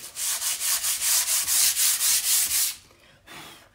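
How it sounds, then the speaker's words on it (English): Sandpaper rubbed over wood in quick, steady back-and-forth strokes, about a dozen loud, close rasping passes in a regular rhythm, then it stops with one brief faint scrape. "I want to grab some sandpaper real quick"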